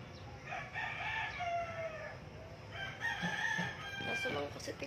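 Chickens and a rooster crowing at a home, with two drawn-out crows and some clucking over a constant ambient background.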